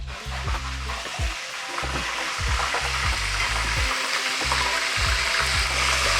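Soft shell crabs deep fry in hot oil, a dense, steady bubbling sizzle heard up close that grows slightly louder over several seconds, with a low rhythmic hum underneath.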